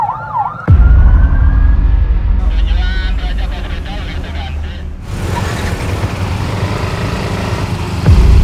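An ambulance siren wails during an emergency escort through jammed traffic. It sweeps up and down briefly at the start, then recurs amid loud, rumbling road noise and engines.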